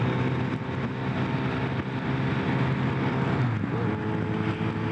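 A Kawasaki ZRX1200R motorcycle on the move gives a loud, continuous engine drone with rumbling wind noise, steady throughout and recorded close up.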